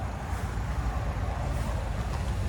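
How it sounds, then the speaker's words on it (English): Constant low roar of passing highway traffic heard from a 2024 Cadillac XT4, a broad rumbling wash with wind-like hiss, steady and moderately distant, no voices. "And I apologize for the road noise."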